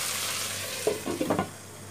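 Okra and onion curry cooking in a pan on low heat, a steady soft sizzle with a few brief scraping stirs near the middle.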